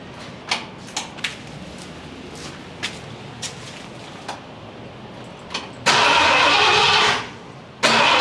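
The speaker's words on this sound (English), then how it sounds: "All right, let's give a crank on the key." A 460 big-block V8 in a 1966 Ford F250 gets a few sharp key and starter clicks, then two loud bursts of cranking, the first about a second long, close up with no voices.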